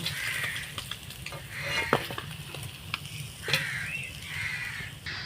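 Parshe fish and potatoes fry in hot oil with a continuous sizzle and crackle, joined by intermittent spatula stirring and scraping, while crows caw faintly in the background.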